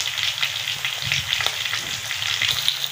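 Thick pieces of fish sizzle steadily in oil on a flat tawa griddle, a bright continuous crackle with small pops, close and alone without talk.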